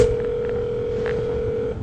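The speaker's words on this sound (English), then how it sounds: "The phone is dialing." A cell phone dials out with a steady, unbroken electronic tone that holds loud and even over a faint background hum.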